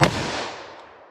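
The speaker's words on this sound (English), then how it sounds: "Let's hit that with our 327 Federal Magnum." A single sharp gunshot from a .327 Federal Magnum snub-nose revolver, fired with soft-point rounds, cracks loudly at the start and then decays into a short echoing tail, with no one talking.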